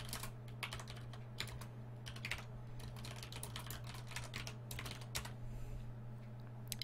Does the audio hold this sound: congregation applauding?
no